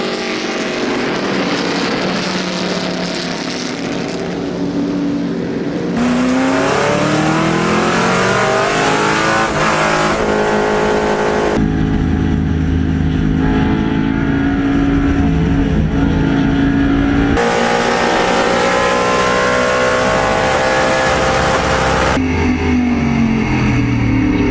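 Loud, sustained engine roar of four historic Trans-Am race cars on the wet 3.4-mile COTA circuit, pitches rising and falling as they accelerate and shift, continuous and close.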